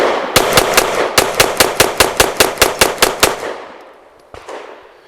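A Kel Tec P15 pistol fires a rapid string of about fourteen loud, evenly spaced shots into a dirt berm, then one more sharp shot after a brief pause.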